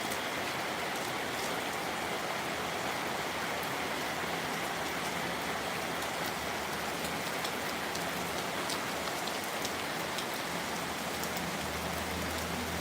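Heavy summer rain pouring down in a dense, unbroken hiss of drops striking surfaces, steady and loud from start to finish.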